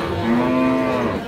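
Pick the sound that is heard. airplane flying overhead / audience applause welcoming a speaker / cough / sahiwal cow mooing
sahiwal cow mooing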